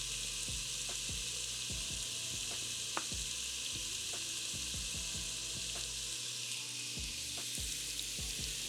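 Tomato paste sizzles steadily in a beef stew pot with celery and onions, a constant dense hiss with scattered faint pops and occasional spoon scrapes, close and even throughout.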